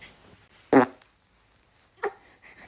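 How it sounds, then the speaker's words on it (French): A single short fart bursts out at close range, followed about a second later by a quieter, briefer second puff, with quiet room noise in between and no talk. "Ouh, t'as pété?"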